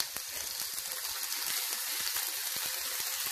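Stuffed minced meat laid in a pan of hot olive oil sizzles with a steady, bright hiss and small crackling pops, close and continuous throughout.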